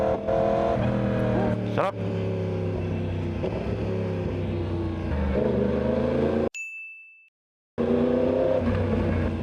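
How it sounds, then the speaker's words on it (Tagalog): A Yamaha R1 sportbike engine roars loud and close with a steady harmonic drone, cuts to near silence for about a second, then roars back; a voice speaks briefly over the engine. "Parang leon tong motor natin."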